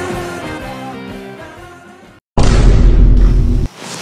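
A loud, sudden boom-like blast bursts in after a brief near-silence, holding heavy and roaring for over a second before cutting off; a comedy short-film setting with music playing before it.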